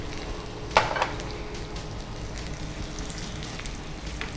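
Cumin seeds and finely chopped garlic fry in hot oil in a pan, a steady close sizzle broken by a sharp clink of a utensil near the start, with no talking.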